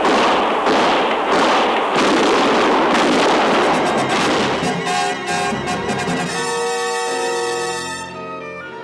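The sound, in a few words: gunshots in a radio drama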